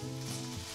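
Onions sizzle steadily in a hot skillet during a brunch recipe, a close, even frying hiss with no voices.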